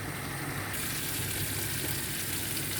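Spices frying for a chicken curry give off a steady, close sizzle with a broadband hiss that stays even throughout and has no voices over it.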